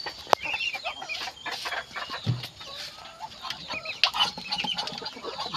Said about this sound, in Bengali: আর এদিকটায় তো আমার বড় হাঁসগুলো আছে।